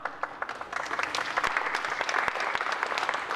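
Audience applause at a talk on open source and software freedom, a dense, steady clatter of many hands clapping for a few seconds, fairly close and sustained without talk.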